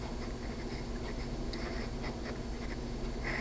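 Writing on a board during a math lecture: faint, scattered scratching strokes over a steady room hum, with no talk.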